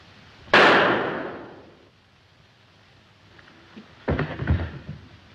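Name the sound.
gunshot from a pistol in a 1937 film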